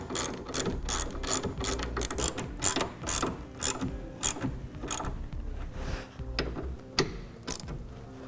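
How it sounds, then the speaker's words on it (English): A socket wrench ratchets while tightening roll bar bolts on a Jeep: rapid, evenly spaced clicking strokes close by, continuing in short runs with brief pauses. "Then we'll take our socket wrench you'll want to tighten them evenly if you can."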